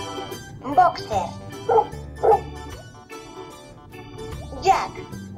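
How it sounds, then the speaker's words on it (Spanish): A boxer dog barks in a children's animal picture book: four or five short, evenly spaced barks, fairly close, followed by a higher yelp, over a soft musical bed. "Boxer."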